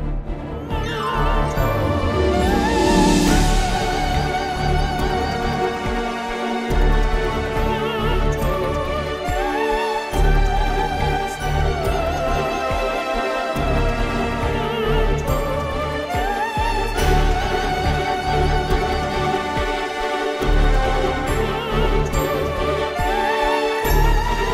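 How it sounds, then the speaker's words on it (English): Sampled operatic soprano voice singing free legato syllables with shifting vowels, dense and continuous, layered over a full orchestral string and keyboard texture with rhythmic pulses throughout. "I'm using a snippet from one of our upcoming libraries, which is our Studio Vocals Operatic Soprano."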